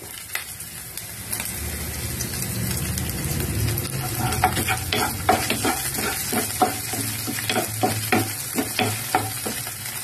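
Curry leaves sizzling and crackling as they fry in hot oil in a pan, a steady sizzle with sharp pops and spatters growing denser and louder midway through, no voices.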